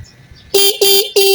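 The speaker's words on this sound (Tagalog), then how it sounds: "Kahit hindi umandar ang makina, may busina siya." A Kawasaki Bajaj Boxer CT150 motorcycle under restoration sounds its horn three times, loud short electric beeps in quick succession, close by, with faint background noise before the first beep and the engine not running.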